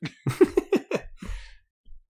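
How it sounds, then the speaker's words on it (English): A short run of several quick, harsh coughs close up, ending with a lower breathy exhale and a faint sound after. "I'm going to include the cough."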